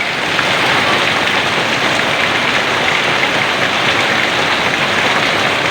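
Heavy wind-driven rain pours down during a flood, a dense, loud, unbroken roar of falling water that stays steady from start to finish with no voices.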